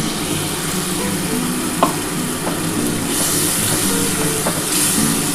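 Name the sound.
spiced water poured into frying prawn masala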